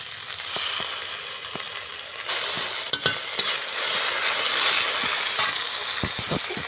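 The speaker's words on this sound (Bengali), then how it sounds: "এবার আমি কড়াইতে আবার তেল দিয়ে দেব। সামান্য একটু পাঁচফোড়ন, একটা তেজপাতা, দুটো পেঁয়াজ কুচি, 1 চামচ রসুন বাটা" Bay leaf, chopped onion and garlic paste frying in hot oil with panch phoron in a kadai, a loud steady sizzle close up, broken by occasional clicks and knocks of a stirring spoon against the pan.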